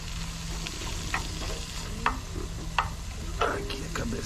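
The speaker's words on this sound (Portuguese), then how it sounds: "A nossa cabeça e nossa casca do camarão já está refogada." Fish head and shrimp shells sauté in a pan with a steady close sizzle, punctuated by several sharp clicks and scrapes of stirring.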